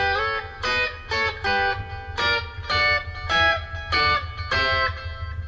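Electric guitar plays a song's intro riff, a run of short, separate plucked phrases with clear pauses between them, close and fairly quiet.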